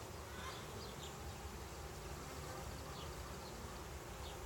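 Honeybees droning in an open hive during an inspection, a steady, dense buzz that holds level throughout with no talk over it.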